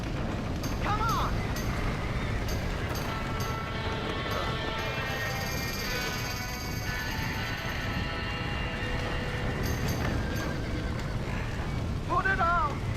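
Horses whinny in alarm inside a burning barn in the Red Dead Redemption video game, high neighs near the start and end over a dense crackling roar of fire and background commotion, with voices shouting throughout.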